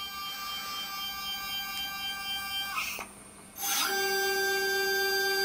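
The declination motor of an EQ8 telescope mount whines steadily, briefly goes quiet, then starts again at a slightly shifted, louder pitch, a thin layered electric tone close by with no one talking.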